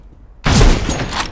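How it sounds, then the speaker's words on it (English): A flashbang grenade detonates in CS:GO as a sudden loud burst after brief near-silence, followed by a sustained ringing, hissing wash. "Throwing flashbang."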